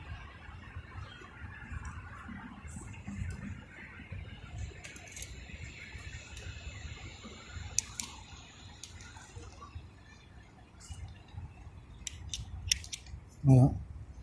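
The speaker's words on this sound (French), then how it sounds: "On va couper à la hauteur du talon de la canne." Scissors snip through a braid once, a short crisp cut near the end after a long stretch of quiet room background.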